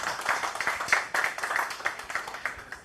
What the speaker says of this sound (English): Can we get a round of applause for Mr. Tyler Seudath?